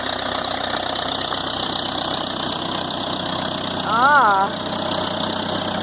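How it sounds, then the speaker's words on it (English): A Case 580B backhoe's engine idles at a steady, unbroken rumble, close and loud, with a brief short vocal exclamation near the end. "The backhoe's running."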